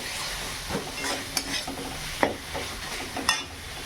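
A spoon stirs and scrapes spice paste with tomatoes in a frying pan over a low, steady sizzle, with a few sharper scraping strokes standing out near and clear.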